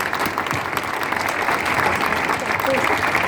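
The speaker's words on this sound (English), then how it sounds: "big round of applause for Lauren, everybody" An audience claps for a stunt pilot after her talk at an event, a steady, dense burst of applause with voices mixed in throughout.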